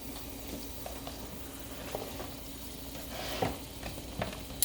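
Butter melting in a pan on fairly high heat as the start of a cheese sauce, giving a faint steady sizzle with a few soft stirring clicks and scrapes, no talking.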